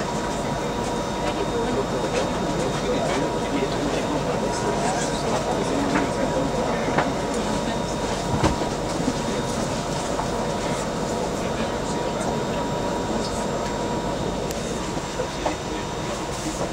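Onboard an SPT class 334 electric train, unit 334021, running on rails between Motherwell and Scotstounhill, a steady loud rumble with faint rhythmic wheel clicks and occasional thumps throughout, with an announcement voice heard over it.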